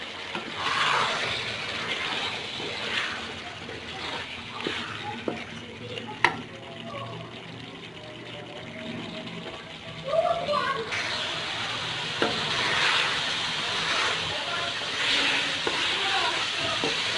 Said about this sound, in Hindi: हम इसके अंदर टमाटर और हरी मिर्चें डालेंगे और साथ ही हरी मिर्चें डाल देते हैं और इसको बहुत ही अच्छी तरीके से हिलाते हैं।